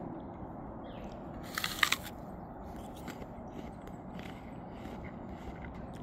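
A single crisp bite into a home-grown apple, a brief close crunch followed by faint chewing and quiet movement over a low background hiss, with no talking.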